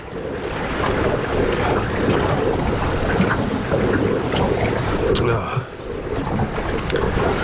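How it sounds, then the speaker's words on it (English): Strong wind buffets the microphone on a remote island shore, a loud, constant rumbling roar with gusty fluctuations, as someone speaks briefly over it. "Too much wind."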